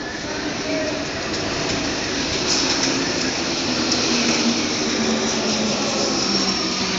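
Paris Métro Line 4 MP89CC rubber-tyred train running between Gare du Nord and Porte de Clignancourt, a steady loud rolling roar and whine heard from inside the carriage throughout.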